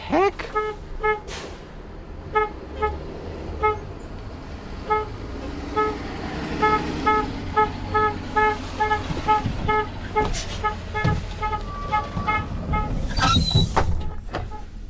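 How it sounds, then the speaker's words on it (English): A bus horn honks repeatedly in traffic, a series of loud toots and beeps over a busy street hum, with a voice speaking at times. "I'm not sure why that bus over there's honking at me"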